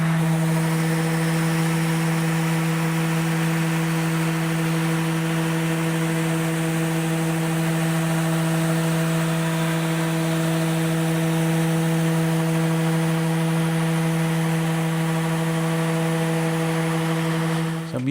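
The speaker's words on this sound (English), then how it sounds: "So I've got 240 grit on my sander. I'm going to do the bottom first and then finish" An electric sander fitted with 240 grit runs steadily across the bottom of an end grain cutting board, a loud constant whine with a strong low hum that continues unbroken throughout, with no talking.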